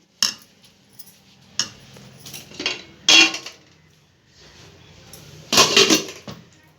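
A metal lid is set onto a cooking pot and the pot pushed aside in a home kitchen, giving several sharp clanks and scrapes of metal cookware spaced apart, fairly close and loud, with no talking.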